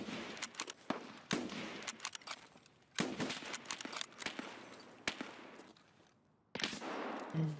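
Gunfire in the shooter game SPTarkov comes as sharp shots and rapid bursts in several clusters, loud and close, with brief gaps between volleys.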